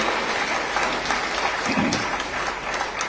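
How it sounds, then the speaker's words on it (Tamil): An audience at a Tamil public meeting bursts into dense, sustained applause, a steady wash of many hands clapping together. "இந்த அமைப்புக்கு ஒரு நல்ல கைத்தட்டு கொடுங்க"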